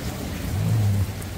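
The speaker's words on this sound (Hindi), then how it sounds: "ओले गिरने का प्लेजर" Hail and rain fall in a steady, broad hiss of drops on surfaces outdoors, with a low rumble swelling briefly in the middle.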